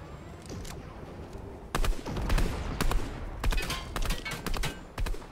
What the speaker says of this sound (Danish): Hvor rammer de skud af, ikke?